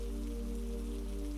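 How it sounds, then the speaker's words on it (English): Rain falling on a Venice evening, a steady, dense hiss of drops that holds evenly throughout, with a low constant hum underneath. "Outside, Venice continues its rainy evening"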